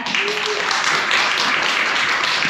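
A conference audience claps to welcome a speaker to the stage, a dense, steady wash of applause filling the room throughout.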